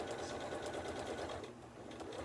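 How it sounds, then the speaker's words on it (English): A sewing machine stitches steadily around the outer edge of a fabric sunglasses or goggles case, a close, continuous mechanical whir with even rapid needle rhythm throughout and no talk. "we're just going to sew all the way around this outer edge."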